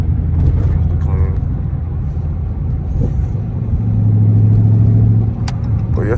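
A Dodge Charger R/T Daytona cruises on the road with a loud, deep engine rumble and steady road noise, and the engine swells briefly as it pulls ahead, heard from inside the car while people talk.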